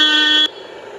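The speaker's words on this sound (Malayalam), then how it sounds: "അപ്പം ഞാൻ ഒന്ന് ഹോൺ അടിച്ച് കാണിച്ചു തരാം." A vehicle's steering-wheel horn gives one loud, steady honk for about half a second and then cuts off abruptly, leaving quiet background noise.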